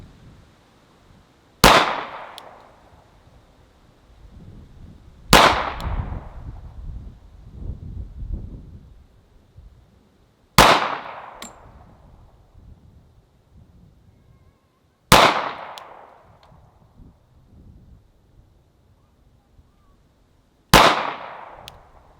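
Five sharp, loud Glock 19 pistol shots ring out at a shooting range, spaced several seconds apart, each a hard crack with a short decaying echo and faint handling noise between shots.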